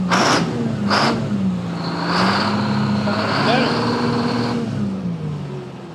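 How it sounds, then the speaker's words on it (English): A 100,000 lb Insley excavator's engine, restarted after sitting for 30 years, revs up loud and close in a steady, rough-edged roar with rising and falling pitch that continues throughout. "Well, let's rev it a little bit."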